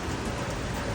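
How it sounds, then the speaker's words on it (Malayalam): A sudden, unexpected downpour roars close and dense, a loud, unbroken wash of rain with no voices. "പെട്ടെന്ന് തന്നെ ഓർക്കപ്പുറത്തൊരു മഴയാണ് വന്നത്"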